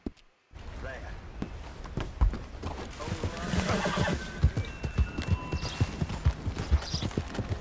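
Horse hooves clip-clop in Red Dead Redemption 2, a run of close, irregular thuds that begins after a short silence, with a horse whinnying and someone speaking over the sound.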